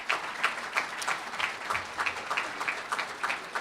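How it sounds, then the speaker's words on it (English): An audience at a business economic forecast forum claps for a panel, steady moderate applause from a crowd spread around a room, no voices over it. "So if we give them a round of applause."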